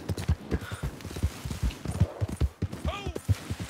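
A horse's hooves clip-clop in quick galloping rhythm in a video game, close and fairly loud, with people talking over the hoofbeats.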